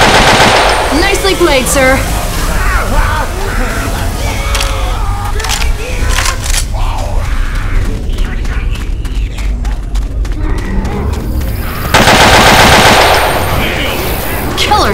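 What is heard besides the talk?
gunfire in a shooter video game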